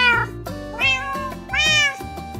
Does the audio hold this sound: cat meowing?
yes